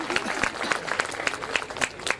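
Audience at a Hindi poetry gathering claps in a brief burst of applause, a quick run of sharp, fairly close hand claps over a couple of seconds, with some voice mixed in.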